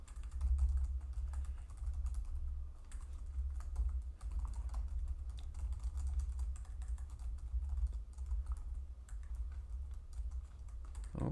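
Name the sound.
typing C code on a computer keyboard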